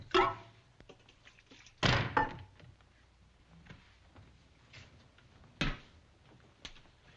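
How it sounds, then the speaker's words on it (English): A door thunks shut in a frontier Western television scene, with a sharp knock and slam early on, then a few softer clicks and bumps in an otherwise quiet room. "Close that door."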